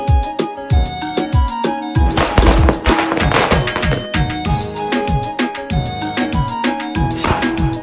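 Rapid, loud Diwali firecracker bangs burst in dense, crackling volleys, some overlapping, with sharp pops continuing throughout.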